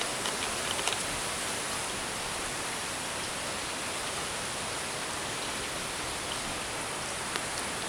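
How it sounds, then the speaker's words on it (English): Steady rain pours down during Hurricane Matthew, a dense, even hiss filling the whole stretch without pause, fairly loud and unbroken by any voices. "Rain has died down a bit."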